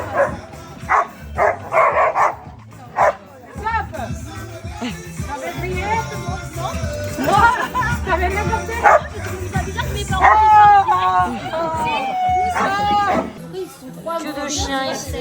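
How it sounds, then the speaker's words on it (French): Several dogs bark and yip in bursts, some high-pitched and close, with a whimper here and there, while people talk over and between the barks. "Que de chiens ici."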